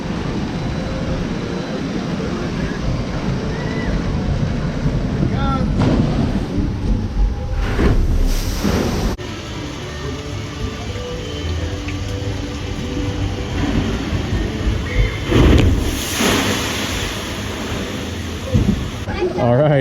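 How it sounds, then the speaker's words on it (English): A Shoot the Chutes boat ride at Kentucky Kingdom hits the water with a heavy, powerful splash amid a loud rushing roar, surrounded by park crowd noise and nearby talking. "that splash was a lot more powerful than I thought it would be"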